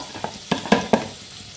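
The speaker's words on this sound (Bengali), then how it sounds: "তেলে দিয়ে দিলাম আলু" Potatoes frying in hot oil, a close sizzle broken by several sharp stirring knocks and scrapes in quick succession, no voices.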